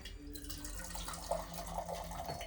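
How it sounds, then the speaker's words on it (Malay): A steady stream of water pouring into chicken cooking in oyster sauce, continuous and fairly soft, with a gentle splashing texture throughout and no talking. "Dan kita letakkan air sedikit"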